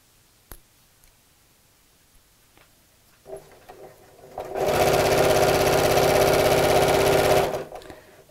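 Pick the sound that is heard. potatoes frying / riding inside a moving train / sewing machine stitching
sewing machine stitching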